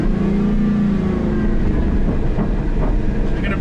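A Square Body Chevy truck with open differentials revs hard off-road over rocks, wheels spinning, a loud continuous engine drone with rough, grinding texture and a few irregular knocks, close and unbroken, with no voices.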